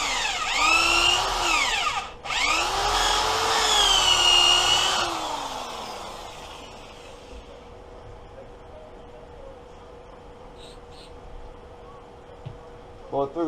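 Power tool whirring as a reamer cuts out a valve guide in a Suzuki LTZ 400 cylinder head, a high whine that spins down briefly and restarts, then stops, leaving quiet workshop ambience and a few small clicks.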